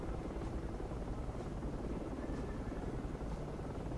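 A transport helicopter in the military game Project Reality flies with a steady, loud rotor roar and a soft rhythmic blade thump, continuous throughout with no talking.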